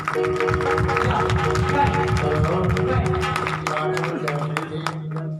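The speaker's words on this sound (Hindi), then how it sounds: "मैं कहता हूँ प्रभु की महिमा के लिए उनके लिए ताली जानी चाहिए" Clapping at a Sunday prayer meeting forms a thick, continuous patter, joined by crowd voices and a sustained tone, then thins out near the end.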